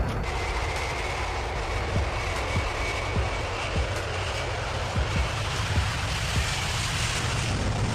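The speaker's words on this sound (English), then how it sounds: "It was the world's first supersonic passenger jet" A supersonic passenger jet, the world's first, roars with a broad, steady engine rumble and hiss that holds loud and unbroken throughout, with no voices.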